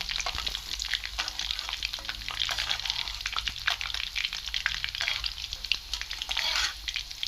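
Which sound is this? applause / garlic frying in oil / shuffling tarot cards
garlic frying in oil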